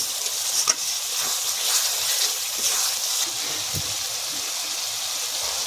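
Potato curry frying in a pan as water and green peas go in, a steady broad sizzle with a brief splash and stirring, close and fairly loud with no talk.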